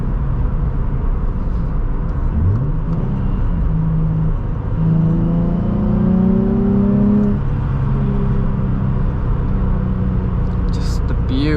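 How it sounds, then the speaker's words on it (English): A 2002 Nissan 350Z V6 revs while driving, with engine pitch sweeping up and down through gear changes over a steady road rumble. The engine is loud and close, with no talk over it. "Just the beautiful sound of the V6"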